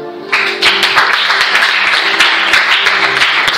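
A congregation applauds during a French-language sermon. Loud, dense clapping starts after a brief pause and carries on steadily, with sharp individual claps standing out.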